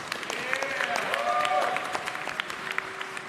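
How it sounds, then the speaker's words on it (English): Applause at a high school graduation ceremony, a dense, continuous clapping from the crowd, with a faint voice or tone briefly rising in the middle. "Please give them a round of applause."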